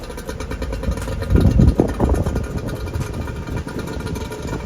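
A dinghy outboard motor runs on the water near a large boat, a steady close engine drone that swells briefly in the middle before settling back to an even hum.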